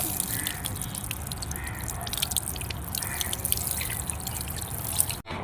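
Water from a container trickles and drips onto a young sapling planted beside a freshly dug channel, a steady close spatter that continues until a brief thump at the end.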